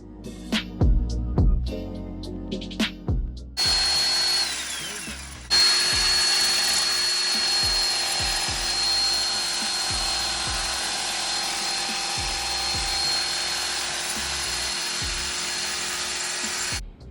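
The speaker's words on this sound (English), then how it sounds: "So I'm gonna be using this guy, a Sawzall, to chop that guy off." Sawzall reciprocating saw cutting through a Toyota sway bar end link, opening with a few scattered knocks and clanks, then a loud continuous saw buzz that pauses briefly and runs on steadily to the end, close up and without talking.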